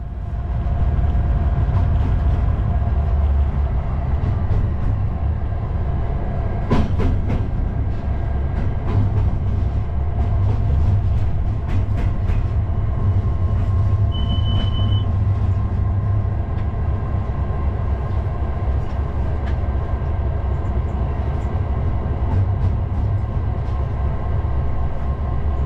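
A Class 59 diesel locomotive hauls along freight rails on a south-west London line, its heavy low engine drone constant and loud throughout, with occasional rail clicks and a brief tonal squeal.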